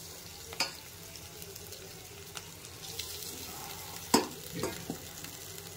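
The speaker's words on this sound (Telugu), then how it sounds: "ఇప్పుడు మనము ఈ అన్నం మొత్తము ఇందులో వేసి కలుపుకుందామండి" A spoon mixes cooked rice into a raw mango mixture in a pan, giving soft scraping and faint sizzling with a few sharper clinks against the pan, quiet and close, with no voices.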